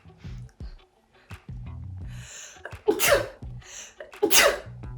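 Two sharp sneezes, each a loud burst after a short intake of breath, come between stretches of a woman's speech in a quiet indoor room.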